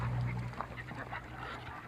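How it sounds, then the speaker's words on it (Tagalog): Ducks quack in short, scattered bursts nearby, several calls overlapping across a steady low outdoor hum. "So mayroon din mga pato."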